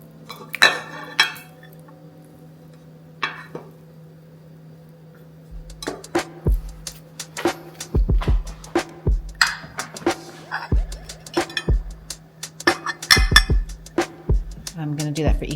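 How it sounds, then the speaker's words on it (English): Brown turmeric rice scooped into six meal prep containers, with repeated clinks and scrapes of a utensil on dishes and containers in an irregular rhythm over a steady background hum. "I'm going to do a half a cup of the brown turmeric rice"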